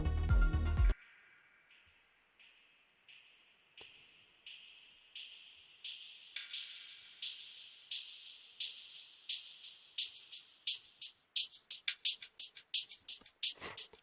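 Drum-and-bass drum hits processed with automated delay, Valhalla reverb and EQ follow a short loud burst, then start faint and spaced and grow steadily louder, brighter and denser into a rapid roll.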